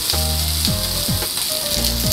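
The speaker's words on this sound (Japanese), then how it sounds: "さあ焼きます。" Floured pancetta grilling in a pan, a dense, continuous loud sizzle close up with faint tonal hum underneath, no talking.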